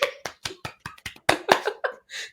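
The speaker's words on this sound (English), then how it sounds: "We're now clapping for him to finish a race." Hosts of a Formula 1 recap show clap together in a round of applause, a series of sharp, close claps with uneven rhythm and no talk.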